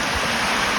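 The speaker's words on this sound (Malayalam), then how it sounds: "ഈ വെള്ളം ചാടി കണ്ടോ, വെള്ളച്ചാട്ടം കണ്ടോ" Steady, loud rush of the Cheeyappara waterfall, close and continuous with dense broadband roar and no voices.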